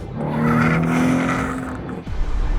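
A Porsche 911 Carrera T with a manual gearbox drives past loud and close, its engine note rising and then fading, with a brief tyre or road noise near the end.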